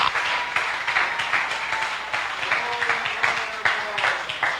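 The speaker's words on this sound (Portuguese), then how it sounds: "Aplaude ao Senhor" Church congregation applauding together during a worship service, a steady wash of many hands clapping with broadband bursts, fairly loud and continuous for several seconds, with faint voices mixed in.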